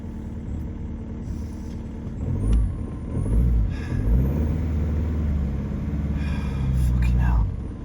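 An old BMW car engine strains and rumbles unevenly in arctic cold, low and labored, while a voice is heard over it.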